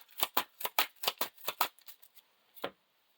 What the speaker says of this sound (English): And then we shuffle it in counter deck.